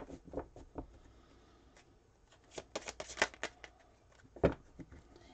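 Tarot cards being shuffled by hand at close range, soft quiet riffles and flicks in irregular bursts with pauses between, a sharper snap near the end.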